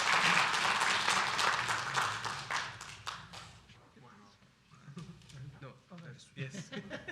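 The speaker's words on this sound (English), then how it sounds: "Let's give them a round of applause." Applause for honorees at a Santa Ana city council meeting fills the room for a few seconds, then tapers off as people begin talking.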